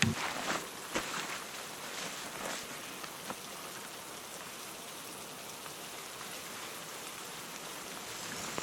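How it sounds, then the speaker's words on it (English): Steady rain falls on a forest hiking trail in the Kaimai Ranges, a dense, even hiss of drops with a few louder patters and taps near the start, no voices. "rain's coming down"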